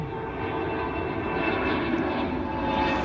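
Propeller airplanes pass overhead above a suburban garden in mid-September, a steady broad engine drone that swells slightly and fills the whole clip without pause.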